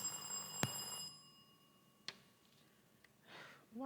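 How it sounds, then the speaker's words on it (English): At a school science and maths quiz contest, a bell rings out sharply once, followed by a few fainter taps and clicks in a quiet room before a voice starts at the end. "Why are you ringing the bell?"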